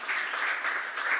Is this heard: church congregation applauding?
yes